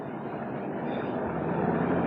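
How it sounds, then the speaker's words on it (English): Pickup truck accelerating down a road in 1981, heard as a broad, steady engine and road roar that builds slightly in loudness over two seconds, with no voices. "The noise you hear in the background is my pickup accelerating."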